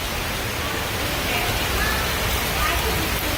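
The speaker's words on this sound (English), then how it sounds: "Yeah, I would say it's hailing." Heavy rain and hail pour down in a Denver storm as a dense, steady roaring hiss that is loud and unbroken throughout.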